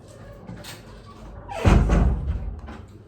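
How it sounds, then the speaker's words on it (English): A door shut indoors at home, a single heavy thud with a brief rattle partway through, close and fairly loud after some quiet room sound, with no talking. "Shut the door."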